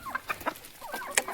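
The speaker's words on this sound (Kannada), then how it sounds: "ನಾಟಿ ಕೋಳಿ ಫಾರ್ಮು" Country chickens on a small farm cluck in short, irregular bursts, several birds close by and fairly faint, with no talking.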